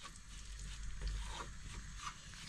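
Semolina toasting in ghee in a pan over a low flame, a soft steady sizzle with faint stirring scrapes, quiet and close.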